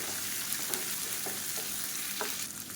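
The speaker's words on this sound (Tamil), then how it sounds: "இது எல்லாத்தையும் நல்லா வதக்கணும்." Chopped onion and small garlic cloves sauté in a pan with a soft, steady sizzle and occasional faint stirring scrapes, fairly quiet and continuous.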